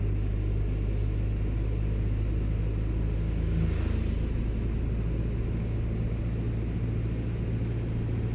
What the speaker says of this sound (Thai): ค่อยๆเติมคันเร่งขึ้นไปเรื่อยๆนะ ว่าไอ้เข้ายาพรคันเหล่งลงนะ เวลารถขึ้นเขาเนี่ย